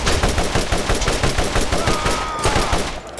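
Gunfire from a weapon in the Borderlands video game: a rapid, steady stream of loud shots rattles continuously, with no talking.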